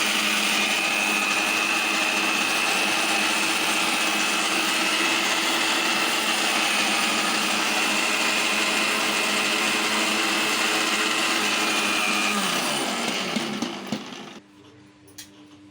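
A mixer grinder grinds ripe red chillies into a fine paste for pickle, its motor whirring loud and steady for about thirteen seconds before winding down and stopping.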